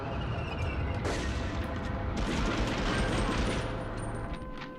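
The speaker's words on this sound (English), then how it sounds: "Oh no! Machine gun!" Dense, continuous machine gun fire in the war shooter Medal of Honor: Underground, loud bursts layered with other gunshots and booms throughout, with a voice faintly under the clamor.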